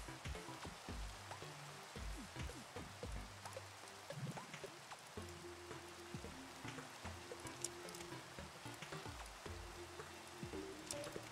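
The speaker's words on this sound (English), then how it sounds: "And now it's raining." Rain in Minecraft, a dense steady hiss of falling drops with soft patters, faint and continuous, with scattered clicks and low thumps mixed in.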